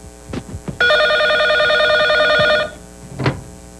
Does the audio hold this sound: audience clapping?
no